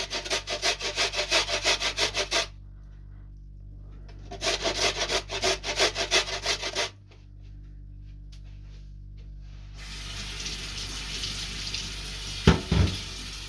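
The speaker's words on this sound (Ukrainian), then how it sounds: "Морковку натираю на мілкій тертушці, на морковній." Carrot rubbed on a fine grater in a kitchen: two sustained bursts of rapid, rhythmic rasping strokes, close and clear, separated by quieter pauses, with soft tapping and a faint running-water hiss toward the end.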